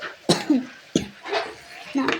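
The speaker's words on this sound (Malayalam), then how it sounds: "ഈ ചുമയൊക്കെ വരും" Several short, sharp coughs in a row, close by, with brief pauses between them and faint background voices.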